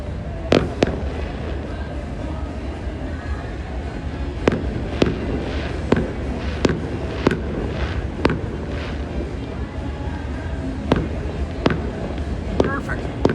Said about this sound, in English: So it wouldn't be a Saturday night in Mexico without some fireworks.